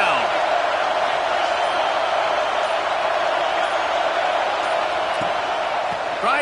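A football stadium crowd in a college football video game roars in a broad, continuous wash of noise at a steady level, with faint clatter at the edges.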